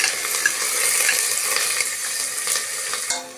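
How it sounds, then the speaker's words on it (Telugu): Onions sizzling and frying in two tablespoons of oil with bay leaves, stone flower and green chillies, a steady close hiss with faint stirring scrapes throughout, no talking. "ఆనియన్స్ ఇలా ఫ్రై చేసుకోవాలి"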